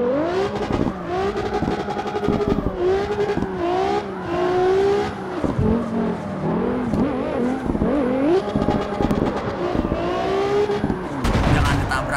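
Car engine from the CarX Street driving game, revving hard and wavering in pitch while drifting, with sharp crackling pops, loud and continuous throughout.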